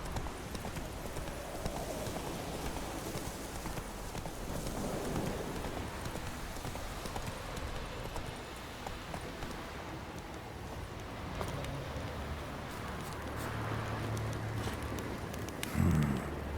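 Horse hooves clip-clop in a steady galloping rhythm in The Witcher 3, continuous and moderately close, with soft ambient game sounds behind.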